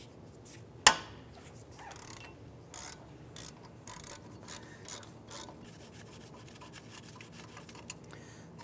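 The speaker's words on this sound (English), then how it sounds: "Using a 17mm socket in your ratchet, I'm going to go ahead and loosen and remove the caliper bracket bolts." A ratchet with a 17mm socket loosens the brake caliper bracket bolts on a 2001-2005 Honda Civic. One sharp crack opens, then quiet, irregular clicking and rasping follows, close by with no talking.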